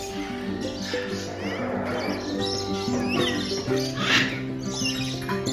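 Many birds, including lories and other small and medium parrots, call and squawk together at dusk in a zoo aviary, a dense, continuous chorus of chirps and shrill cries with some voices mixed in.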